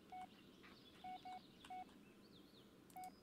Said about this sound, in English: Let's call Jess first.